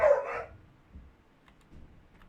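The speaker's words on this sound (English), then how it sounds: "Excuse the dog." A dog barks once or twice nearby at the start, a short sharp burst, followed by faint quiet background.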